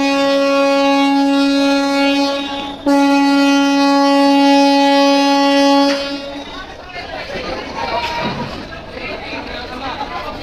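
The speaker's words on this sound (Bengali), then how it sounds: "তারা বারবার হরেন দিয়ে জানান দিচ্ছে তারা কিন্তু এখনই চলে যাবে বরিশাল থেকে ঢাকার উদ্দেশ্যে" A passenger launch at Barishal ghat sounds its loud, steady horn twice, a long sustained harmonic blast with a brief break, before departing for Dhaka; busy crowd chatter and dock noise follow once the horn stops.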